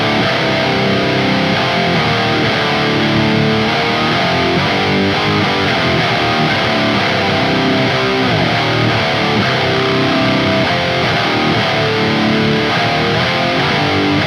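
Heavily distorted electric guitar tuned to drop C plays a breakdown riff, a dense, loud, sustained wall of chugging power chords with no talking.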